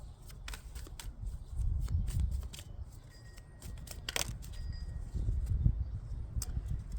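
Tarot cards being shuffled with a run of soft, papery riffles and flicks, steady and close, with a few sharper snaps and several cards slipping loose, no voices.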